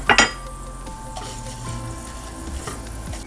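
Fenugreek, cumin and bay leaf sizzle in hot oil, a loud spatter as the spices hit the pan, then a steady close frying hiss with light stirring.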